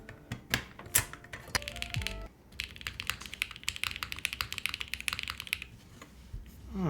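Fast typing on a Jris 80 TKL mechanical keyboard, close and clear: rapid, irregular clacky keystrokes in bursts, with a brief pause midway and a few heavier key presses.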